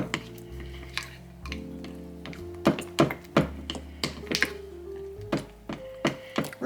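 A spoon scrapes and taps around a bowl, stirring chocolate chips to melt, in a steady series of knocks and clicks, with a low background hum underneath.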